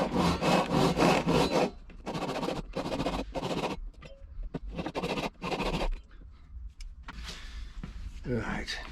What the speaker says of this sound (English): All I'm doing is I'm sawing